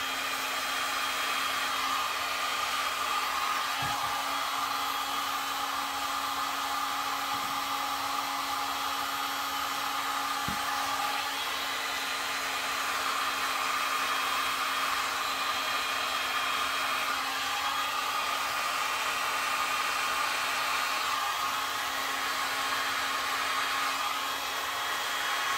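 A hair dryer blows steadily on alcohol inks spread over tiles, a continuous close, even whoosh lasting the whole stretch with no talk.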